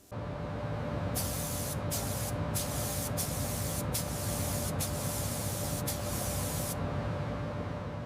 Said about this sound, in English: The airbrush, matching white paint applied in micro droplets to conceal any scuff marks from handling.